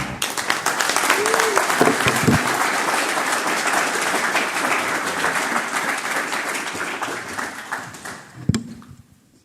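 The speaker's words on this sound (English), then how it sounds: "one more round of applause for Mathieu." Audience applause at a conference session, a dense steady wash of many hands clapping for several seconds, with brief voices underneath, then tapering off near the end.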